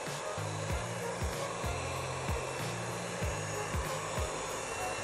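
A hair dryer blows steadily to heat an iPhone 16 screen and loosen it, giving a constant close airy whoosh with a low motor hum that dips and returns in repeated short pulses.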